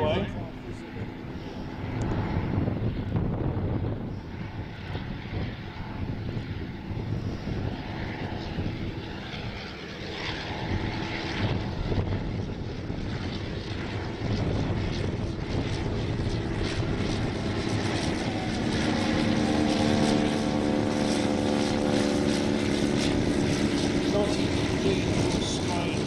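Vintage rotary-engined aircraft flying at the Shuttleworth airshow, a steady propeller drone that swells and grows louder toward the end, with people talking faintly over it throughout.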